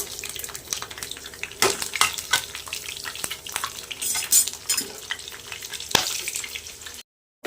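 Tempering spices sizzle in hot oil in a kadai while a banana flower and coconut fry is being made. A steady crackle runs throughout, broken by sharp clinks and scrapes of stirring, and the sound cuts off abruptly at the end.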